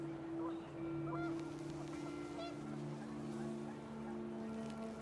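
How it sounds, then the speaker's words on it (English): Panicked geese honk a few times amid wind and a droning hum in the video game What Remains of Edith Finch, brief nasal calls scattered and fairly distant under the steady background tone. "The wind picked up, and panicked geese appeared and quickly went."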